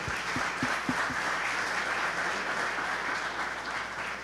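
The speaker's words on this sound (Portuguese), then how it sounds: "Aplauda Jesus, amém?" A church congregation applauds during a sermon, a full, even roar of many hands clapping at moderate volume, with a few sharp nearby claps at the start and a low hum beneath.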